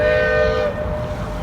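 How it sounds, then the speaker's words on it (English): A big boat on Lake Union in Seattle sounds a long, steady horn blast that is easily mistaken for a train, loud for most of the moment before easing off, with no talking. "This is not a train, this is a boat, big boat."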